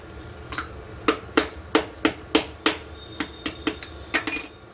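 Sugar candy (misri) is pounded into powder in a sharp, irregular series of about a dozen crisp knocks and crunches, close and fairly loud, with brief pauses between strikes and no talking.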